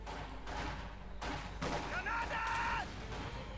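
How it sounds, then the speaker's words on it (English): Molotovs and mortar rounds going off in the strategy game Company of Heroes 2: several sharp blasts and bursts in quick succession over a dense battle din, with a rising tonal whine near the end and faint talk. "Molotovs, mortar rounds"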